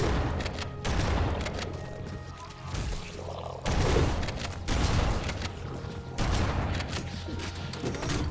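Rocket launcher fire from Flood enemies in Halo: Combat Evolved Anniversary: a dense, loud barrage of blasts and crashing impacts in repeated bursts, with heavy low rumble throughout the battle.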